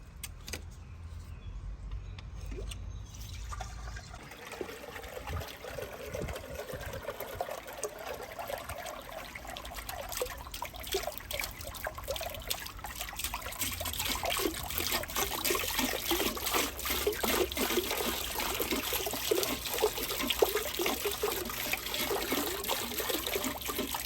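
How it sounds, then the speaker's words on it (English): A Geometrica fountain pump starts up after a quiet moment and runs with an erratic, sputtering hum while water trickles and splashes, growing louder and busier over the second half. "I guess I'll go ahead and run it just to see if the pump fully works"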